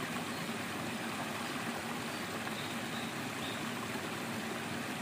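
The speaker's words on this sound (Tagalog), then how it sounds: "Malakas na yung agos eh." A strong stream current from Kataw Falls rushes steadily on a rainy farm, a dense, continuous broadband roar of water with no breaks and no voices.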